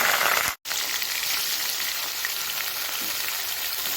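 Chicken pieces hitting hot oil already crackling with mustard seeds and curry leaves give a steady, loud sizzle with a brief dropout near the start, close by and with no voices.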